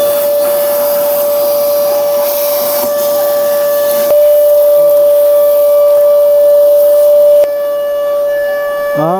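Vacuum cleaner clearing dust after a wiring repair on a Scorpio 4x4 pickup, a loud steady motor whine that holds a constant pitch throughout, with a few brief shifts and clicks.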